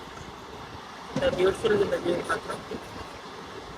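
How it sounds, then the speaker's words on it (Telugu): A MEMU passenger train on the Khammam to Bhadrachalam line rolls through hilly country under cloudy skies, giving a steady low rumble and rattle throughout while a person talks over it. "కొండల మధ్యలో వెళ్తుంది ట్రైన్."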